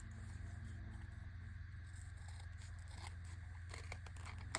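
Scissors snip and scrape through paper in quick, close crunching cuts over a low steady background hum.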